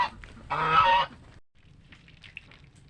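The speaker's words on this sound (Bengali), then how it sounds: "এইখান থেকে আটকানো জায়গা থেকে সব হাঁসগুলা বেরিয়ে গেছে" Ducks let out a short, loud burst of honking quacks as they push out of a pen enclosure, followed by quieter rustling and faint background noise.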